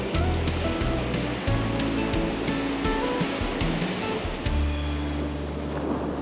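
Surf breaks and washes continuously on an ocean beach, a loud steady roar of waves with wind buffeting the microphone throughout.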